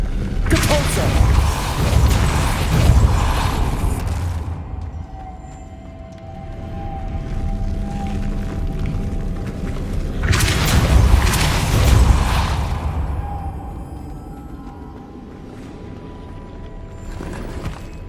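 The Depulso spell in Hogwarts Legacy lands as loud, roaring blasts: a long burst at the start and a second about ten seconds later, with a lower rumbling and clanking mechanism sound in between.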